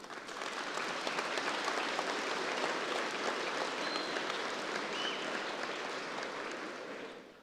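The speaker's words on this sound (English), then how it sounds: "please give them a round of applause" Steady, dense applause from a ceremony audience at a Veterans Day event, honoring student band members and cheerleaders; sustained and evenly loud for several seconds before tapering at the end.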